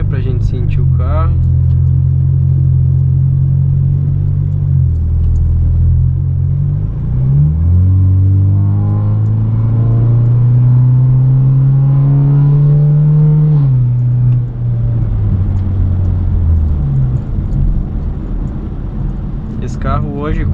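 A 2016 BMW 320i Sport 2.0 Stage 2 fitted with an Akrapovic exhaust and carbon tips revs up close by, a loud deep engine drone rising in pitch, dropping, then climbing again before easing off.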